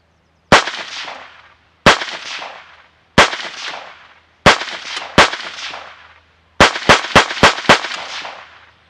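Savage A17 rifle in 17 HMR firing into dirt: sharp, loud cracks with ringing decay, spaced singly at first, then a quick string of five shots near the end, no talk.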